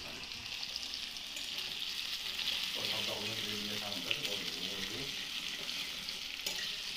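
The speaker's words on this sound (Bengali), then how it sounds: "এবার আলুটাকে ফ্রাই করবো, লাল লাল করে কড়া করে ভাজবো" Potatoes frying and being stirred in a pan, a steady loud hiss and crackle of hot oil running throughout with occasional scraping of the utensil.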